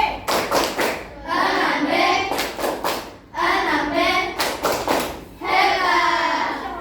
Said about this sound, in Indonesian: Saya mau berikan dulu tepuk hebat untuk kelas 6B.